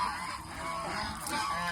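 Geese honk close by in a rural yard, a brief run of nasal, overlapping calls over a steady background, with no one speaking.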